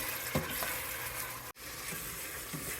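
Pureed tomatoes cook in a pan for a coconut curry bean dish, giving a steady, close sizzle and bubbling with a brief stir at the start and a short gap in the middle, no voices.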